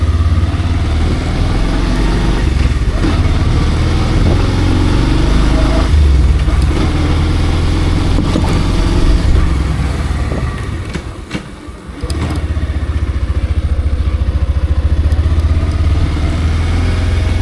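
A Bajaj Pulsar 150 motorcycle ridden at night makes a loud, steady engine drone mixed with wind rush, briefly easing off near the end before resuming.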